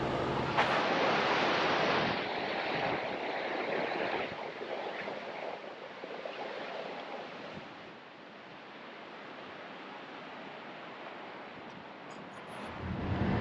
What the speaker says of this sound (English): There's a nice quick river here.